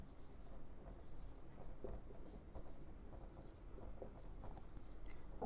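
A pen scratches across paper or a board in short, quick strokes, close and faint. Low room noise sits underneath.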